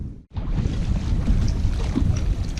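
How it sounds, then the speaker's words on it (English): Wind blowing across a small fishing boat out on open water, a loud continuous buffeting roar against the microphone that starts after a brief dropout. "Seems like the wind picked up again."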